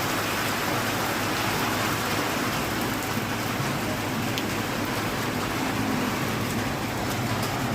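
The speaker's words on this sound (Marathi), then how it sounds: "आजसुद्धा पुन्हा सायंकाळी पाऊस सुरू झालेला आहे" Steady, dense evening monsoon rain in Wardha hisses continuously throughout, loud and even, with no pauses.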